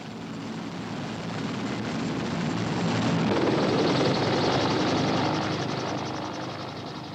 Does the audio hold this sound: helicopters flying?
yes